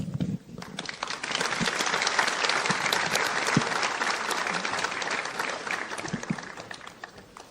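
Sustained applause from a large audience, dense clapping swelling quickly and holding steady before tapering off at the end.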